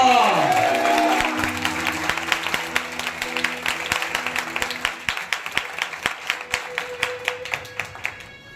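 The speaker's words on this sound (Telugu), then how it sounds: "అందరూ చప్పట్లు కొడుతున్నారు." A crowd at a church convention claps in rhythm, a dense burst that settles into a steady, regular beat that gradually fades, with a sustained musical tone underneath and a voice briefly heard at the start.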